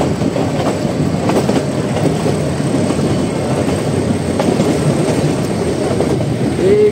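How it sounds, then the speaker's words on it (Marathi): Nilgiri toy train rolling along its rails, a steady dense rumble of wheels and carriage noise with faint rhythmic clatter, continuous and close throughout, no talking. "चला मित्रांनो फायनली ट्रेन सुटलेली आहे"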